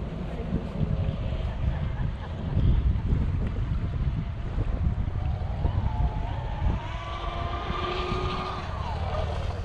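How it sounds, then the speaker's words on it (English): Wind blows across an RC model boat pond during a club run, a steady rushing roar buffeting the microphone, with a faint buzzing motor tone rising in the background toward the end. "Wind's coming right at us."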